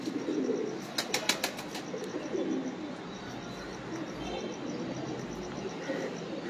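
Pigeons kept by a pigeon fancier cooing low and soft, with a brief burst of wing flapping or clatter early on and faint chirps in the background.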